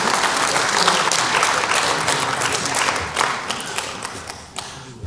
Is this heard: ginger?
no